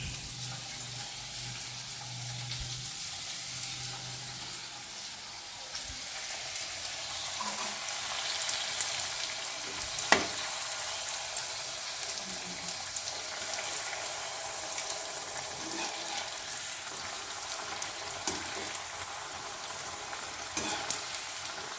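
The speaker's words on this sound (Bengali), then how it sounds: "লাল লাল করে ভাজতে হবে।" Pieces of rolled dough deep-fry in hot oil for a home-made chatpati chaat, with a continuous dense bubbling sizzle and occasional stirring clinks and scrapes over the steady frying.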